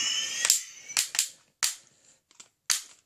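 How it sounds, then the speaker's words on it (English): A Transformers Platinum Supreme Starscream toy fires off electronic sound effects when its arms are raised and lowered: five or six sharp, crackling blaster-like bursts in an uneven rhythm, loud and close, with silence between them. "when you raise and lower the arms, as you know, it just sets the noises off"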